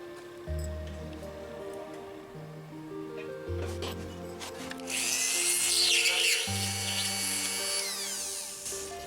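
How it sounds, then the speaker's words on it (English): A power drill whirs steadily in the background, rising into a brighter, higher whine midway as it bites into material, with faint background music. "I'm going to drill this one first, I think."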